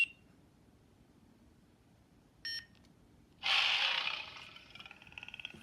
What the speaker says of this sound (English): You have to wait for 2 beeps to change fonts